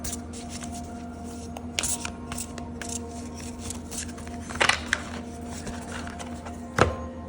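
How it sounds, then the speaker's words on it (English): A deck of tarot cards being shuffled by hand, soft riffling and sliding bursts with a few sharper snaps, close and quiet against a low background hum. "Let's pick up the tarot for deeper clarity."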